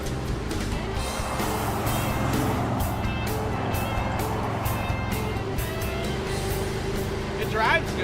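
Restored Chevrolet Tri-5 car cruising down the road, a steady low engine drone and road rumble continuing throughout, with people talking over it inside the cabin.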